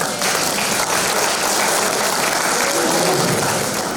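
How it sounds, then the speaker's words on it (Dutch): Audience applause for photographer John Smit at a carnival jubilee session in a Blerick venue, a dense, steady roar of many hands clapping that holds evenly throughout. "En ik wil hier een goed applaus voor John Smit, die al jarenlang foto's maakt voor de Wortelenpen."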